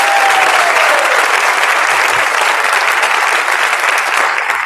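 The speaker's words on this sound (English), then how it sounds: "Let's give them a round of applause." Sustained audience applause at a school district awards night, dense and steady throughout with no talking over it, fading slightly at the very end.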